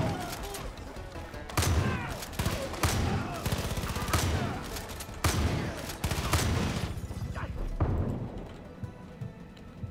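Shotgun blasts boom in Far Cry 5, a handful of loud, close shots spaced a second or two apart amid other clattering game action.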